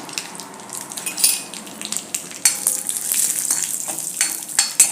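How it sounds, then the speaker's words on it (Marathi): Cashews and raisins frying in hot ghee for a jaggery rice kheer, a steady close sizzle with crackling pops and occasional light clinks of a spoon against the pan, no voices. "तूप गरम झालं की याच्यावरती मी आपण जे काजू आणि बेदाणे घेतले ते घालूया"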